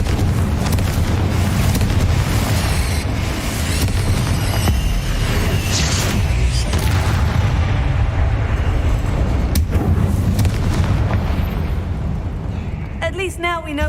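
Hogwarts Legacy's Confringo fire spell erupts into a sustained, roaring blast that fills the space with dense rumbling and crackling fire for many seconds before tapering off at the very end.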